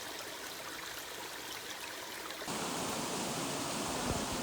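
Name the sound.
creek water flowing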